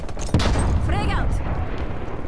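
Frag grenade blast in Call of Duty Cold War: one loud, close burst that stays up as a steady roar of game noise, under the player's voice.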